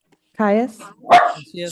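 Dogs bark during a committee meeting roll call, with one short, sharp bark breaking in between voices calling names and answering.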